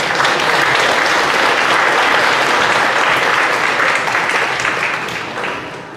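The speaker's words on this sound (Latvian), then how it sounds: "skaists aplausus vajadzētu korim un viņu vadītājiem." Loud, dense applause from a graduation ceremony audience for a choir and its conductors, full and even before tapering off slightly toward the end.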